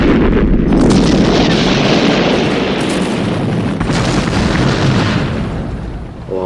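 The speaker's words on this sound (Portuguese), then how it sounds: "Registra o barulho de uma explosão." A loud, sustained roaring blast of noise filling the whole clip, like a big explosion rumbling on for several seconds before easing off.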